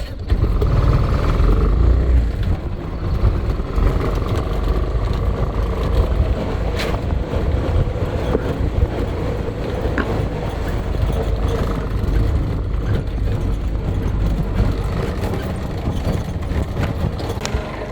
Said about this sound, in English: Guys, we took that little tuk-tuk ride